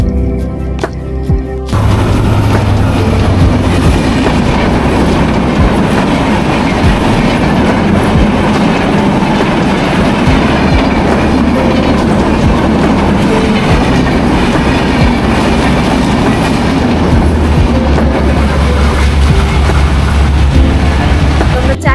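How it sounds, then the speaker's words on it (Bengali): A train rushes past close by at a tea stop in Shapahar, Naogaon, its loud, steady roar and clattering wheels filling the scene from start to finish after a brief quieter opening. "খেতে খেতেই আমাদের পাশ দিয়ে হুশ করে একটা ট্রেন বেরিয়ে গেল।"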